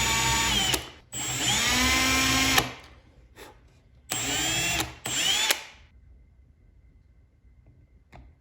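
A power drill drives screws into wood for a playing card tray with a Lazy Susan base, in two long high-pitched whirring bursts and a short blip between them, close and loud, then quiet.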